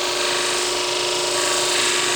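Vortex V500 shears being sharpened on a powered sharpener at 50% speed, a continuous close grinding rasp with a steady whine that holds for about two seconds with no voice.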